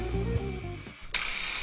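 A mechanical hum with tonal whine from a Graco TrueCoat Pro II airless paint sprayer cuts off, then a loud, steady hiss of spraying begins abruptly and continues to the end.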